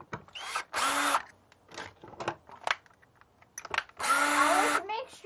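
A power drill with a drill bit works on an HF balun build, running in short loud bursts of high whirring that stop and start between quieter clicks and handling noise, with brief talk in the gaps.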